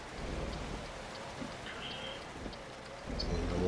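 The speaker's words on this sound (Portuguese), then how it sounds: "Chuvão caindo aí, uma tempestade praticamente, uns raios, trovão, da hora" Steady heavy rain beats down during a thunderstorm in American Truck Simulator, with low rumbling thunder swelling toward the end, a dense wash of sound with no talking.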